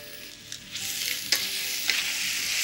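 Peppers and broccoli seasoned with salt and pepperoncino sizzle in a stir-fry pan, a bright, steady hiss that builds slightly, broken by a couple of sharp spatula clacks.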